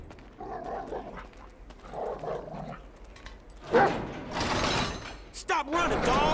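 A dog barks and growls in the video game GTA 5 during a chase, with a few sharp loud yelps near the end amid game noise and someone talking over it.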